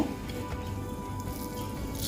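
Dried bamboo-leaf fish bharta with dried chilli, fried onion and garlic, and salt is mixed by hand, a soft, wet squishing and patting that runs steadily and close throughout.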